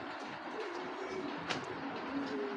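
Racing pigeons coo softly and repeatedly at close range in a loft, a low steady murmur of calls with no talk.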